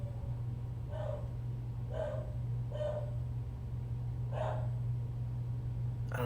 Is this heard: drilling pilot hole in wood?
no